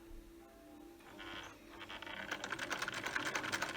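Sewing machine stitching the seam of a fabric face mask, starting with a quiet whir and building into fast, steady needle clatter, heard close and alone.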